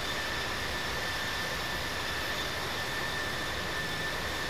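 An aircraft taking off from runway 19 in the Infinite Flight simulator, a steady loud engine roar with a high whine, continuous throughout with no talk.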